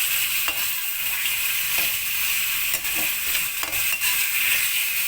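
Chicken with spices frying in a pan, a steady loud sizzle running throughout with a few faint scrapes or stirs, no talking.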